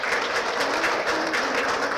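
Sustained applause from the audience at an academic conference valedictory ceremony, a steady wash of many hands clapping at moderate distance, filling the room evenly with no voices.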